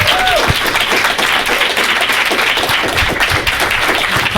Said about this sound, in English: let's give our awesome panel one loud, proud round of applause